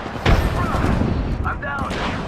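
Gunfire in Apex Legends arena gameplay, with a loud close shot followed by rumbling booms and scattered impacts, while a voice talks over it.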